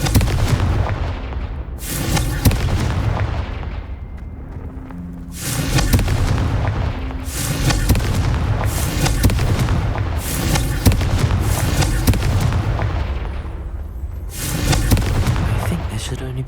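Repeated Confringo blasting spells smash vases in the game Hogwarts Legacy, producing a series of loud booming bursts with crackling debris, spaced a second or two apart over the stretch.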